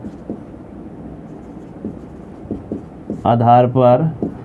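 During a Class 10 math lesson on polynomials, faint scratchy writing strokes sound in short bursts over a quiet room before a voice briefly speaks near the end.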